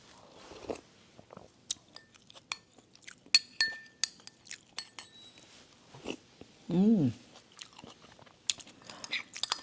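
Someone eats soup, with wet chewing and munching, scattered crunchy bites and clinks of a spoon or bowl. The sounds are close and come in irregular bursts, with one short vocal sound partway through.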